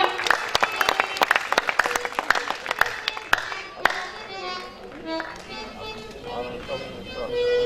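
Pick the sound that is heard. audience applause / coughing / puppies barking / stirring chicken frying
audience applause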